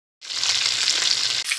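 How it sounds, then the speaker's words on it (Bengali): Fish heads from a large tilapia fry in hot oil: a sudden burst of loud, dense sizzling starts after a short silence, holds steady with crackling, and briefly dips near the end. "মাথাগুলো আগে ভাজছি বন্ধুরা।"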